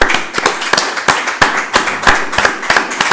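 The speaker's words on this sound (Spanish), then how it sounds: "yo os pediría un aplauso" A small audience at a book presentation claps, sparse and close, with distinct individual sharp claps in an uneven rhythm rather than a full roar.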